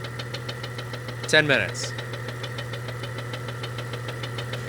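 The 4.0 engine of a Jeep Cherokee idles with a fast, steady lifter tick that repeats evenly over a low engine hum. Partway through, a short voice is heard over it.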